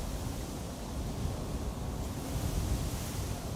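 Steady wind blowing at Amsterdam Schiphol Airport, a continuous low roaring rush buffeting the microphone, with no voices.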